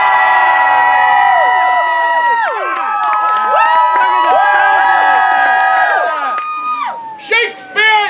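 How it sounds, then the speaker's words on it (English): A theatre audience at a staging of Shakespeare's Tempest cheers and screams loudly in a continuous wave of whoops and yells, which fades toward the end into a few scattered shouts. "So just scream a whole lot."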